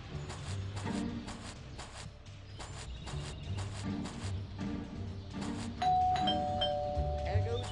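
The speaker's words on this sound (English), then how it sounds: "There goes that stupid bell again." Doorbell in the Scary Teacher 3D video game, a repeated ringing chime pattern with rhythmic game sounds underneath and a sustained tone near the end.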